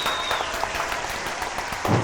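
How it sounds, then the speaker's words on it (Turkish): Applause from an audience celebrating world champion esports players at a studio show, a steady patter of clapping throughout with a louder burst near the end. "Bir alkış alalım ama."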